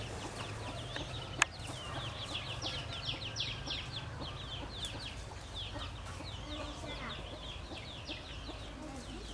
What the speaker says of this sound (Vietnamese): gà mái mẹ đang ấp.